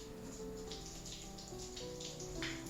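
A shower head sprays lukewarm water over French-embroidered mimosa worked in natural wool thread, rinsing away water-soluble stabilizer from a drawstring bag; a steady, close hiss of spraying water with small splashing variations throughout.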